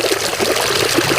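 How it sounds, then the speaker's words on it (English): Garden fountains at Lotusland, Montecito, run with a close, continuous splashing trickle of falling water that is bubbly and steady through a short moment. "The water fountains at Lotusland are running"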